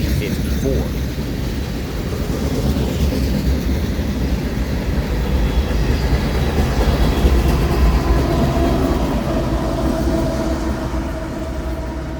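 Union Pacific freight train UP7054, with a C44ACM rebuild locomotive at the rear, rolls past in Spartanburg with a broad, steady rumble and rattling wheel noise, constant and close for the whole stretch.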